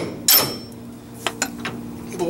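A single sharp metallic strike rings out as a bolt is knocked from a Ford F100 kingpin, followed by a few lighter clinks and taps nearby.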